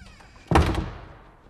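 A single solid thunk as a door is opened, sharp and fairly close, then a short fading decay into quiet.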